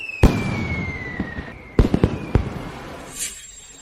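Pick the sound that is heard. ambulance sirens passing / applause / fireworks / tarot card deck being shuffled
fireworks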